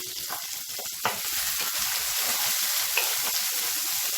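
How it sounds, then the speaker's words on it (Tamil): Urad dal, chana dal, dried red chillies and garlic fry in hot oil with a steady, close sizzle, and a couple of faint clicks come from stirring. "பொன்னிறமாக வறுபடட்டும்."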